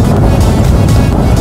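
A Yamaha NMAX 155 motor scooter riding at top speed, all stock, heard as a loud steady roar of engine and rushing wind buffeting the microphone, with no voices.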